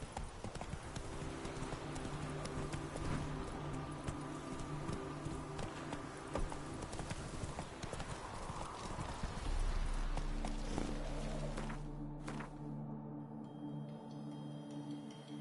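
Horse hooves clip-clop at a steady gallop in The Witcher 3: Wild Hunt, loud and continuous over game ambience, with a brief whinny and a low tonal swell near the end.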